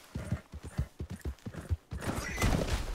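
Horse hooves clip-clop in a quick, uneven rhythm as a horse is ridden in the Red Dead video game, followed by a rising gallop rumble and a brief whinny.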